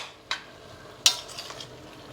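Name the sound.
stirring tomato amaranth curry in a pan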